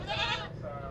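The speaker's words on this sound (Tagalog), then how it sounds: "Ito yung mga kambing ko." Goats bleat on a Philippine farm, a short, close, wavering cry followed by a fainter second call.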